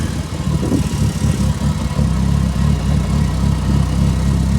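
Mitsubishi Evo engine running steadily while the car is driven, a continuous low rumble with a hint of throttle change early on, close and fairly loud with no talking.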